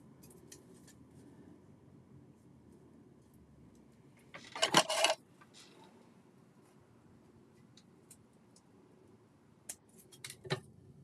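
Scissors snip ribbon close by in one quick crisp burst of cutting, with faint clicks and rustles before and a couple of light snips later, quiet overall.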